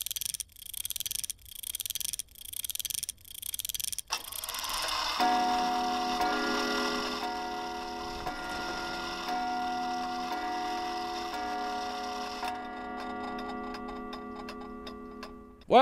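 A clock in The Nun Massacre video game ticks about five times in a slow, steady rhythm, then a sustained eerie musical drone takes over, with no talking.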